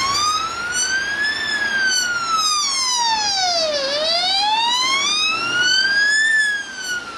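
An emergency vehicle siren wails loudly and continuously, its pitch climbing and falling in long slow sweeps, near and steady throughout with no voices over it.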